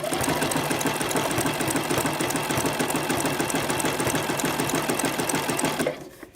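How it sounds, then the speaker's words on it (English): Sewing machine stitching zigzags along picot edge elastic, a loud, steady rapid mechanical chatter running continuously for about six seconds before abruptly stopping. "when you make your zigzags, you want to go towards the left edge of the elastic"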